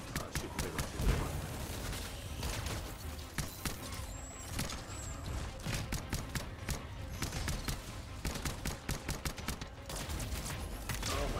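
Rapid gunfire from the sci-fi shooter Anthem, dense bursts of shots running almost continuously at close range, mixed with other game noise, with a voice talking over it at times.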